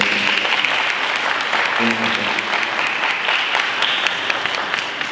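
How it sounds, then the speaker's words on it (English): An audience applauds for Freddie at a live event, with dense, steady clapping from a crowd that stays loud and even for the whole stretch. "Give her a hand clap for Freddie."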